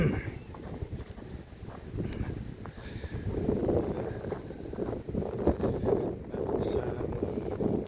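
Outdoors on a breezy day, wind buffets the microphone in a steady low rumble that swells and rises, with someone talking over it.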